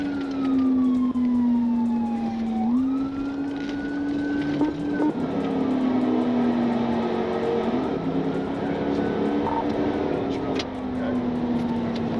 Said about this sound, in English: Hit the lights and siren.